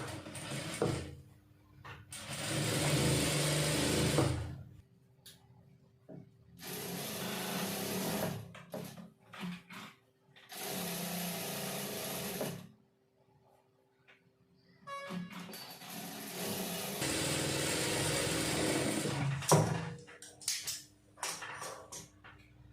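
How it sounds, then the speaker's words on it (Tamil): A sewing machine stitches lining and main cloth together in several long runs of rapid mechanical whirring and clatter, close by, separated by quiet pauses with small handling clicks. "1/2 இன்ச் அகலத்துல தையல் ஓட்டிக்கலாம்."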